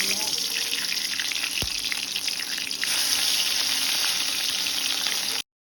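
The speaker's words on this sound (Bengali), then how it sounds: "এটাকে লো হিটে ভাজতে হবে, বেশি বাড়িয়ে দিলে এটা পুড়ে যাবে" Puli pitha frying on low heat in a pan, giving a steady, even hiss of sizzling oil that runs almost without change before cutting off abruptly.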